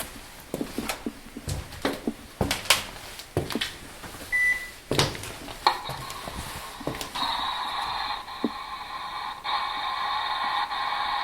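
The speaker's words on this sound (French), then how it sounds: "on va faire une petite séance de Spirit Box" A Spirit Box sweeping radio stations during a paranormal session in an old boarding school: choppy bursts of static and clipped radio fragments, with a steadier hissing drone taking over toward the end.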